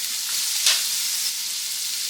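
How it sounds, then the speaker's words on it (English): A tablespoon of butter hits a pan of frying potatoes, giving a quick hiss that rises over a steady bright sizzle, close and continuous with no talking. "I'm going to add in about a tablespoon of butter."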